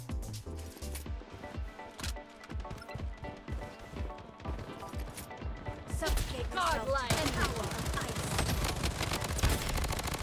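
Rapid MP5 submachine gun fire in the shooter game Bloodstrike, dense bursts of shots continuing throughout and growing louder and busier in the second half, with voices talking over the gunfire.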